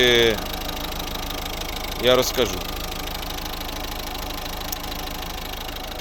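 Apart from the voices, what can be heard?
diesel car engine idling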